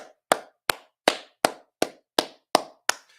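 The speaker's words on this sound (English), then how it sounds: "Everybody give him a hand clap." A single person's hand claps, eight sharp, evenly spaced smacks at a steady slow rhythm, close and distinct with no other sound between them.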